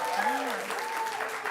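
Applause breaks out in a city council chamber during public comment, a moderate continuous patter of clapping heard alongside a voice and a faint tonal hum.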